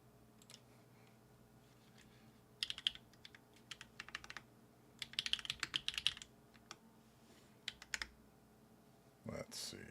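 Keys clatter on a mechanical keyboard fitted with GMK, JTK, SWG and other keycap sets plus a Nyxkeys Hermes prototype numpad, in scattered quick bursts of close, crisp clicks over a faint background hum, with a bump near the end.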